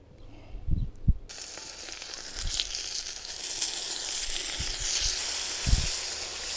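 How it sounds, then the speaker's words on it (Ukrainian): Fish coated in a half-wheat, half-corn flour mix sizzles in a frying pan outdoors, giving a steady close hiss. A few soft thumps and clatters come from the pan at the start, and no one speaks. "Рибку обвалюємо в борошні і відправляємо на сковорідку"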